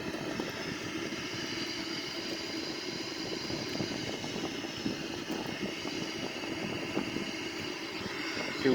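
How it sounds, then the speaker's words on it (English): Steady engine roar inside a Boeing 787-9 airliner during a rapid climb past 20,000 feet, a constant, fairly loud cabin drone with no talking. "we make a rapid climb right now on this aircraft"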